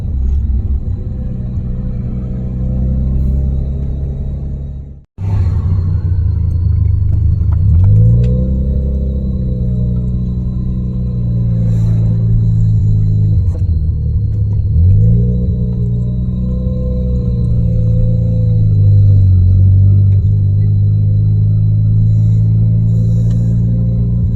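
A Mazda RX-7 FC3S or BMW E30 creeps along slowly on a sunny day, with a steady low engine rumble close by and a brief cut to silence near the start before the drone resumes with gentle swells.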